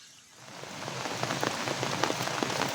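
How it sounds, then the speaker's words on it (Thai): Steady rain pours down with scattered drops pattering close by, a continuous wash of noise that builds slightly after the first half second. "ฝนตกนี่บ่หยุดบ่เซาเลยพี่น้อง"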